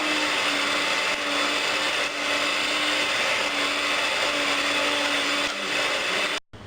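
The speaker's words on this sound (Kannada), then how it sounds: "ಇದು ಚೆನ್ನಾಗಿ ಮಿಕ್ಸ್ ಮಾಡ್ಕೊಬೇಕು, ಸಕ್ಕರೆ ಮತ್ತು ಬಟರು." An electric mixer beats sugar and butter together for cookie dough with a loud, continuous whirring hum. It runs unbroken for several seconds, with slight changes in pitch, before cutting off abruptly.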